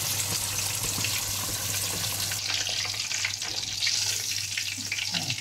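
Fish deep-frying in hot oil at a Kampar market stall gives a loud, steady crackling sizzle that rises and bubbles unevenly, close up with no talking.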